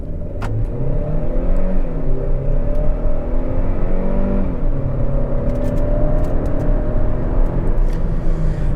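A 2024 Hyundai Creta N-Line N10 accelerates hard at full throttle in sport mode with traction control off, its loud engine roaring steadily and building up close for the whole stretch.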